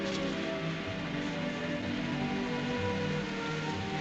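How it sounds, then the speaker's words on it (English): Rain falls steadily in an outdoor scene of the 1940 film Rebecca, a soft, constant hiss of drops at moderate distance with no voices. "Starting to rain."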